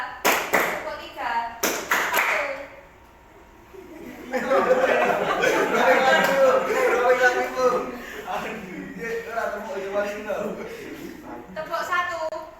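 A classroom of students claps along in a counting clap game, with bursts of sharp, rapid hand claps alternating with a pause, then busy clapping mixed with chatter and light laughter from the group.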